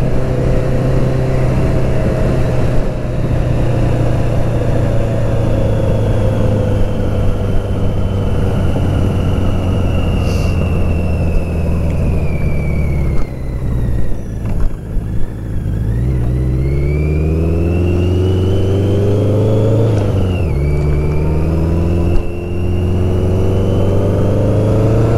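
A BMW K100 motorcycle engine runs very loud and close for a long stretch, holding a steady drone with several rising and falling revs and no voices.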